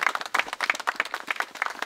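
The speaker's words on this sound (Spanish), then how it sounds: "Un aplauso para Irene, por favor." An audience claps at a gathering in support of taxi workers, a short burst of dense, moderately loud applause with no talking.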